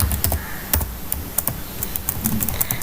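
Rapid, uneven keystrokes clatter on a computer keyboard while code is written for a Flutter app, close and fairly loud, with short bursts of taps and brief pauses between them.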